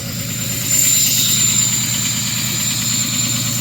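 A Ford 6.0 Powerstroke diesel, started cold at -2°F with partially gelled fuel, sits at high idle with a loud, steady rumble and clatter that rises slightly early on and then holds constant.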